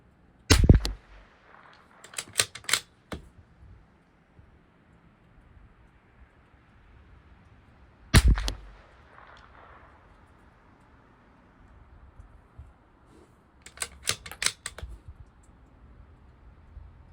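Bergara B14R rifle fired at a 200-yard range: sharp, loud shots ring out near the start and again around eight seconds, each followed by fainter clicks and distant impacts, with no talk over them.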